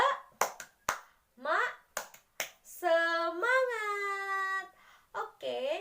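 A 'tepuk semangat' cheer clap made of sharp, rhythmic single hand claps in short groups, alternating with a voice chanting and drawing out sung syllables between the claps.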